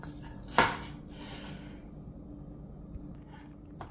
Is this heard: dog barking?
no